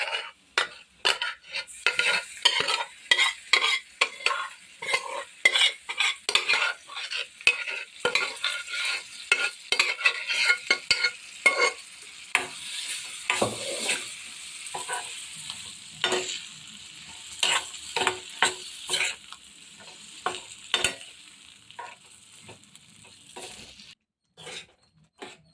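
Boiled, mashed dal stirred and frying in a pan, a spoon scraping and clinking against the metal in quick irregular strokes over a soft sizzle, close and steady with no talking.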